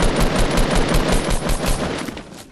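Rapid automatic gunfire in Fortnite, a dense steady stream of loud close shots rattling for over two seconds before tapering off.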